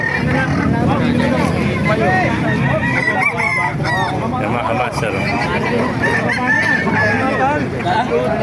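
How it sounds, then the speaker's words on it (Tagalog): A noisy early-morning poultry market crowd in Calumpit with many chickens and roosters clucking and calling throughout, constant chatter and someone speaking over the din. "Napakarami manok dito."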